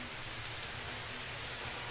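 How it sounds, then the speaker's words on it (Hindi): Heavy rain falls steadily outside on a dark day, a dense, even hiss with no breaks, fairly quiet and heard alone without any voices. "तो आज बहुत बारिश हो रहा है"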